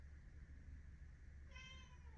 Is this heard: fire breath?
no